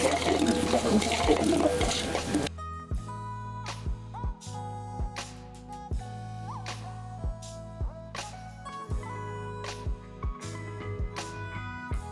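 Goat legs go into a pot of heated water for homemade village goat leg soup: a brief rushing splash, then scattered hollow knocks and clinks of the pieces settling, close and fairly quiet.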